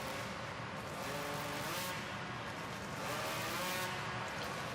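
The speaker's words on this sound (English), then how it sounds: "they'll take a couple of revs to blow out the carbon, make sure everything is warmed up enough" Chainsaw-style hot saw engines revving during warm-up at a STIHL Timbersports competition, a continuous loud, rough engine roar with rising and falling revs throughout, no talk over it.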